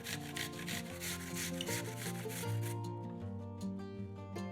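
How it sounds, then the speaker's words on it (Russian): Rhythmic rasping strokes of apples being grated on a coarse grater, repeated quickly over soft background music. "Подготовленные яблоки трем на крупной терке."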